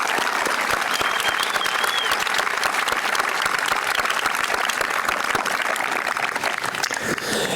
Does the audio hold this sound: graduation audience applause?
yes